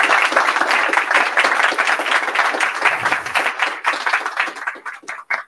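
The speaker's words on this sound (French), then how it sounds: "un tonnerre d'applaudissements pour Julie" A seminar audience gives a round of applause for the presenter, many hands clapping loudly and densely before thinning into scattered individual claps that trail off toward the end.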